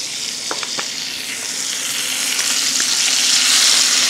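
Food sizzles steadily in a pan with whole butter for a holiday dish, a close, continuous crackle that swells slightly louder toward the end, with a few light clicks of utensils early on.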